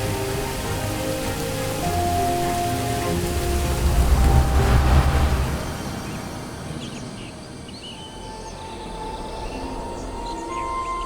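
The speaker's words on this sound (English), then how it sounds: "this is not the first time this red rain has fallen upon such an assembly of relations" Heavy rain pours steadily in a dense, continuous wash, swelling louder midway before easing slightly, with low rumbling and faint tonal sounds underneath.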